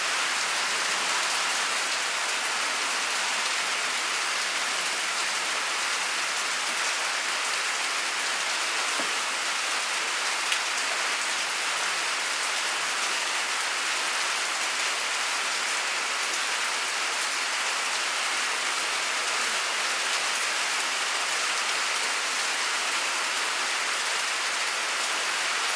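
Steady, heavy rain pours down without a break, a dense hiss of drops hitting surfaces throughout.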